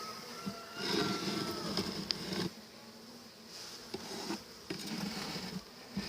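Honey bees buzz around an open hive during an inspection, a soft, wavering drone close by, broken by faint creaks and clicks as frames are handled.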